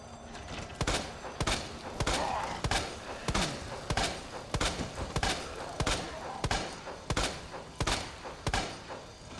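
Repeated gunshots from the Resident Evil 2 Remake, sharp percussive bangs firing in an irregular rhythm roughly once a second, close and loud against a muffled game background.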